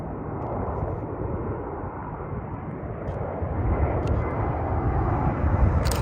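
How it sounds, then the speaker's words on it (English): An American Airlines Airbus A319 with IAE engines arriving from Phoenix at Reno on a snowy winter day, a loud continuous engine roar that swells gradually as the jet draws nearer. "next up, we have our American Airlines Airbus A319 arriving from Phoenix Sky Harbor International Airport"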